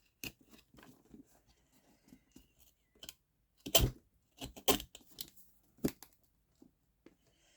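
Scissors snipping paper pages out of a book, scattered close crisp cuts with a cluster of louder sharp snips in the middle, separated by quiet gaps, no talk.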